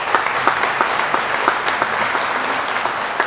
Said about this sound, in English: Give him a round of applause, even though he can't hear it.